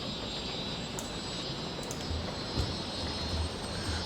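An airplane departs an airport in Cities: Skylines, a steady, full jet-engine roar that holds throughout, with a faint high whine on top.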